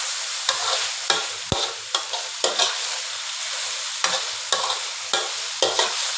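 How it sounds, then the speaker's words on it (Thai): Pork and holy basil stir-fried in a pan for Thai pad kra pao with pork sausage: a loud continuous sizzle broken by repeated sharp spatula scrapes and clacks, close up, no voices. "อันนี้ก็จะผัดเข้าๆเลยค่ะ"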